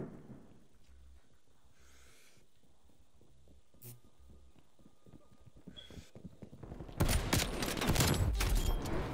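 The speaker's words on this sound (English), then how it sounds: "I hate explosions." Video game explosions and gunfire ring out, with muffled thumps and sparse bursts, then a loud, rumbling blast crackling through the final seconds.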